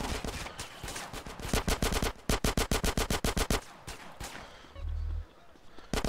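Gunfire in GTA San Andreas: dense bursts of rapid automatic shots crack loudly and repeatedly, with short pauses between volleys and a low hum near the end.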